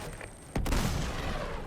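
Gunfire erupts with a loud burst about halfway through during a jungle mission in the Uncharted 2 video game, followed by sustained, dense rumbling shots and blasts; no voices are heard.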